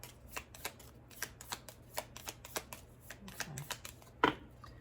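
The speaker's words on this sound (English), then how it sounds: "Let me shuffle this real quick." A deck of playing cards is shuffled, with quick repeated riffling bursts in an uneven rhythm and a sharper snap near the end. The sound is close and quiet.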